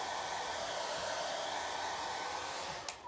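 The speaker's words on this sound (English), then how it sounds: "I can do this with this blow dryer because this is cool air that I'm doing it" A handheld hair dryer on its cool setting blows with a loud, steady rushing whoosh that holds constant and then cuts off near the end with a brief click.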